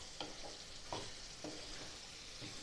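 Cumin and black pepper are lightly roasted with mutton liver in a pan. A soft, steady sizzle runs throughout, with a few faint stirring scrapes, quiet and close, and no talking.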